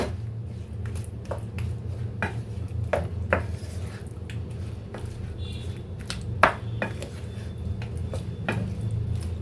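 Mushrooms being mixed in a bowl with a utensil: repeated clinks and scrapes against the bowl in an irregular rhythm, close and moderately loud over a low background hum.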